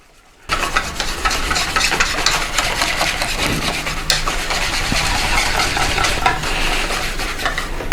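Yorkshire pudding batter being whizzed round in a bowl to break up flour lumps, a steady close scraping, whirring rumble that runs continuously with no talk after a quiet start.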